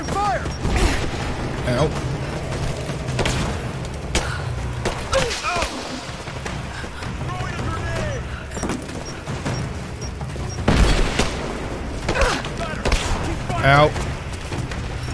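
Gunfire in the video game Rise of the Tomb Raider, scattered booming shots and thuds at irregular moments, mixed with mechanical clatter, while someone talks and groans in pain over the action.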